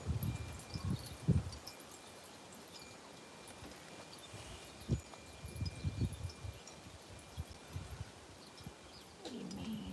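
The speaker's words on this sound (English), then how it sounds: "here comes the wind" Wind gusting outdoors, buffeting in low rumbling bursts over a steady airy hiss, loudest in a few sharp surges; no one speaks.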